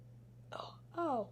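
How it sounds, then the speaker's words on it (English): Two short involuntary hiccups from a person, the second louder and more voiced, close and clear against a steady low hum. "Sorry, I have hiccups today."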